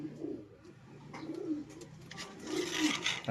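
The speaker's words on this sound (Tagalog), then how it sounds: "Grabe, ganda ng ibon. Ayun, umiiyak pa" A bird gives low, repeated cooing calls close by, rising and falling in short phrases over faint background noise.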